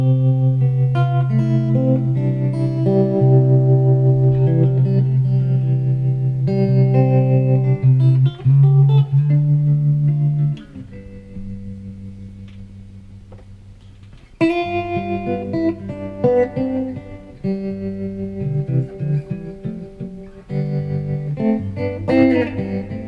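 Electric guitar through a Tech 21 Fly Rig with tremolo and reverb, sustained chords with a pulsing wobble and a washy tail, pausing midway and then resuming with more strummed chords.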